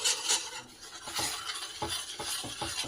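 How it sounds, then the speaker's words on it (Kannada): Jowar flour being stirred into a pot of boiling water with a spoon, a near series of scraping stirs with soft clinks against the pot, no talking. "ನಾನು ಇದಕ್ಕೆ 1 ಕಪ್ಪಷ್ಟು ಜೋಳದ ಹಿಟ್ಟನ್ನು ಹಾಕಿಬಿಟ್ಟು"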